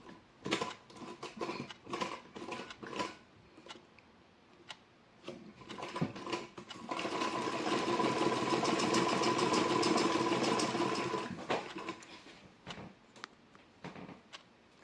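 Sewing machine stitching a blouse sleeve, a steady mechanical whirring run of several seconds, close and fairly loud, set between scattered clicks and handling noises with no talking.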